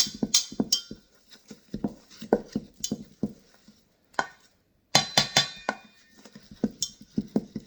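A wooden spoon stirs flour in a bowl with a quick series of close knocks and taps against the sides, briefly pausing before resuming.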